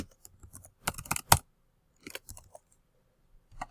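A password is typed on a computer keyboard as short clusters of crisp, close key clicks, with a quick run of strokes, a pause, a few more taps, then a final keystroke.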